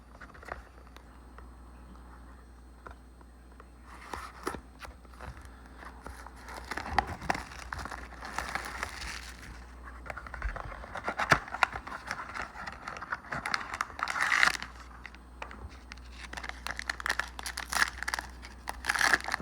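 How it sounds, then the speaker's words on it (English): A foil Topps Spotlight 70 trading card pack is torn open and crinkled by hand, with scattered crackling, rustling wrapper noises and sharp tearing bursts close up over about twenty seconds. "So we'll open up this other pack."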